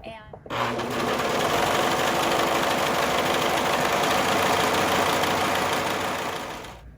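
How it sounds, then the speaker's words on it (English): Serger sewing machine running along the edges of a winter scarf, a fast steady mechanical whir and rattle that starts sharply, holds close and loud for several seconds, then winds down. "I finished serging the edges of my scarf"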